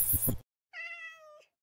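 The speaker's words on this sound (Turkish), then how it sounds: "Kedi ses geldi gene." A single clear cat meow from the Minecraft video game, one short tonal call following a brief burst of other sound, crisp and close with silence around it.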